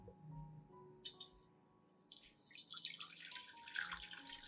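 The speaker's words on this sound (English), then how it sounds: "I filter out the residue and keep only the pure liquid without sediment." A cooled eggshell and rice solution is strained to remove its sediment. After a short lull the liquid pours in a steady, faint trickle that grows into continuous splashing, heard alone.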